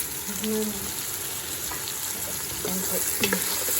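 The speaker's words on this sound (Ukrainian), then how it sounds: "Нарізала такий бекон, який я раніше купувала, підсмажую." Sliced bacon frying in a pan, a steady close sizzle and crackle with faint clinks of utensils and brief tonal scrapes along the way.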